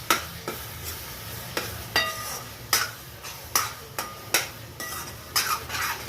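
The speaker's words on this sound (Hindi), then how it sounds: "लगातार चलाते रहना चाहिए, वरना खोया नीचे बैठ जाता है तो चिपक जाता है।" Spoon stirring carrot halwa with khoya in a pan, with repeated scraping strokes against the metal at a steady rhythm, close and clear over a low background sizzle.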